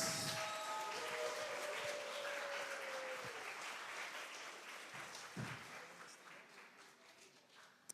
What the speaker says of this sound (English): round of applause for all the readers